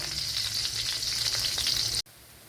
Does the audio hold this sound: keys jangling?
no